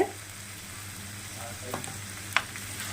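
Prawn gravy frying in a pan as it is stirred, a soft continuous sizzle with a few light clinks and scrapes of the spoon, with no talking.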